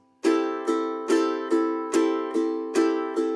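A ukulele is strummed down and up in a steady, even rhythm, eight bright chord strokes ringing close with no talk.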